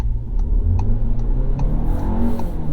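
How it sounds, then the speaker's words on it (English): A 2022 Volkswagen Tiguan SUV engine revs steadily at half throttle, a continuous low droning hum with rising harmonics and faint periodic ticking, close and fairly loud. "This is half throttle, and it's going flat out."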